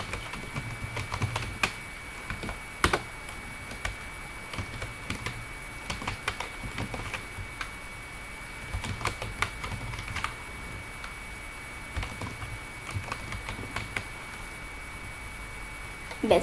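Names being typed on a computer keyboard, soft uneven bursts of key clicks with pauses between words and a few louder taps, over a low steady hum.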